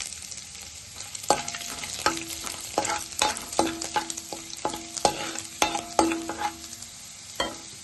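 Garlic and ginger pieces fry in a pan for dragon chicken, with a constant sizzle broken by repeated metallic spatula taps and scrapes at an uneven rhythm. No voices are heard.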